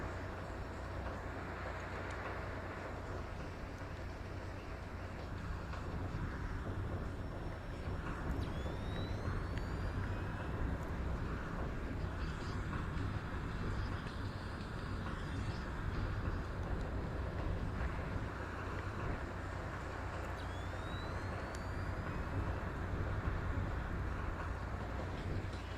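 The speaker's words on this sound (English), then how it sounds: "this engine room is extremely loud" A loud ship engine room in a video game, a dense, steady mechanical roar with a constant low rumble that fills the whole space continuously, with no pauses.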